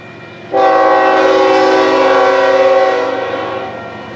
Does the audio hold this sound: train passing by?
yes